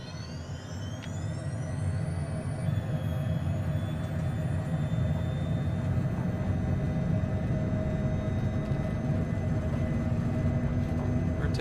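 Honda Jet engines spool up to takeoff power in Microsoft Flight Simulator, a rising turbine whine settling into a loud, steady roar with a high whistle as the aircraft rolls down the runway.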